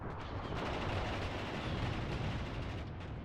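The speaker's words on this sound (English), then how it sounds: "The sole survivor of his platoon putting in some work with the machine gun" Dense, continuous machine-gun fire and distant battle rumble from a Panzer II tank in the war game Mius Front, a steady roar of rapid shots with no voices.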